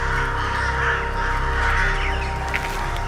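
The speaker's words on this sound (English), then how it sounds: "These crows are not about to stay and pick a fight." Crows caw in a loud, steady stream in the wild during a fight with a golden eagle, over a constant droning background.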